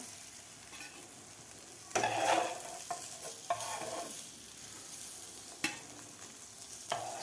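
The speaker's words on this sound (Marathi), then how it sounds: "शिमला मिरची रिंग्स व्यवस्थित फ्राय झालेले आहेत." Capsicum rings fry in a pan with a steady low sizzle, broken by several scraping stirs and turning noises, close and moderately loud with no talking.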